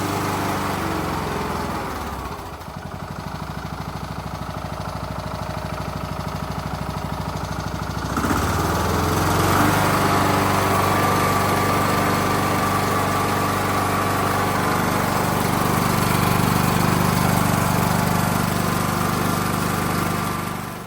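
A Craftsman YS4500 riding lawn mower with a Kohler Courage engine idles loudly and steadily nearby, its rough drone shifting slightly in pitch partway through.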